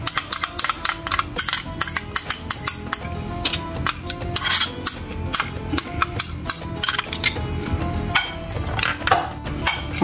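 Metal spoon scraping and clinking steadily against a bowl while white channa chaat is stirred together with chutney, a dense run of sharp close clinks and taps with no talk.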